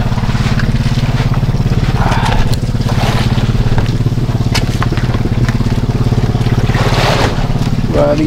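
A steady, loud engine drone of boats running close by, with water splashing and occasional clatter over the constant motor hum.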